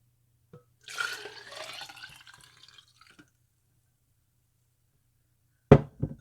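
Coffee poured into a 2-cup mug makes a brief liquid splash and trickle early on, then quiet, followed by a sharp knock near the end.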